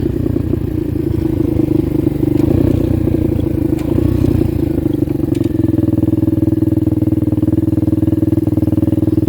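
A mini bike chopper engine idles on choke while warming up, a close, loud, steady putter with a rapid rhythmic firing beat and some clatter; its pitch drops slightly partway through and then holds.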